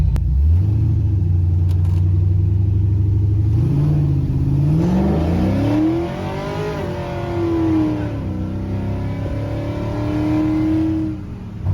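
A C10 pickup truck engine is started again and revved, its loud, close rumble climbing and falling through several rises in pitch, then settling into a steady idle.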